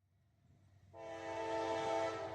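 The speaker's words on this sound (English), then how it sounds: "First train we got," A CSX freight train with boxcars rolls past. It starts faint, then a loud horn-like tone with strong harmonics sets in about a second later, and a steady rumble and rush of the passing cars sustains beneath it.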